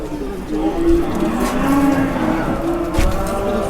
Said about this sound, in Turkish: Damızlık inek getirdik. Danalı getirdik.